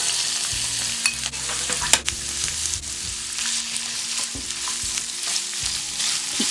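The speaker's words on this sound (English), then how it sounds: "Keep stirring and sautéing over medium heat until golden and tender, and begin to caramelize" Julienned carrots stirred and sautéed in a pan over medium heat, a bright continuous sizzle broken by clattering scrapes of a spatula, with one sharp knock near the start.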